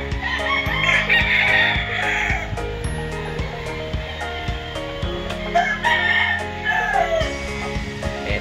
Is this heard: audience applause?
no